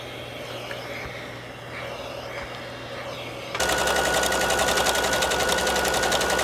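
Sewing machine running a quarter-inch seam on a luxury cocoon coat, a steady fast rattling whir that starts abruptly after quiet room tone and continues loud and close to the end.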